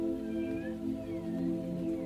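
A person in a yoga class imitates a cat's meow during cat pose, a drawn-out, wavering tone held steady over a low continuous hum.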